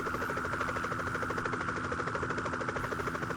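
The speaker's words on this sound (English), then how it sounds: "That's the sound of the phasers." A pulsing electronic buzz warbles rapidly and continuously, a steady sci-fi beam tone of a phaser from the original 1960s Star Trek series, fairly quiet and alone.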